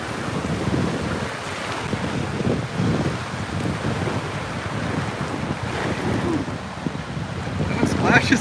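Ocean waves surging and splashing up against the shore, a steady roaring wash of water with gusty wind buffeting the microphone throughout, swelling louder near the end.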